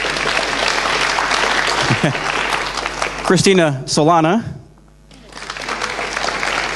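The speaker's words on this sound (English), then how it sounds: "Round of applause." Audience applause for the Molajo core team at a presentation, broad clapping that runs under a speaker's voice, breaks off briefly and then returns.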